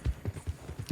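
Horse hooves clip-clop steadily in Red Dead Redemption 2, about six even hoofbeats in under a second, close and moderately loud with no talk over them.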